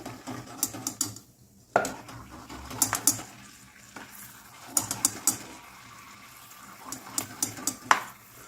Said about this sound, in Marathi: बदाम पण छान फ्राय करून घेतलेले आहेत